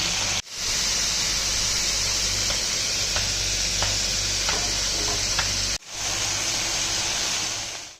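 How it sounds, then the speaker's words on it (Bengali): Fresh okra fries in hot mustard oil with a dense, loud, steady sizzle and a few faint clicks of stirring, cut by two short breaks. "সর্ষের তেল গরম করে তার মধ্যে একদম টাটকা তাজা ভেন্ডি"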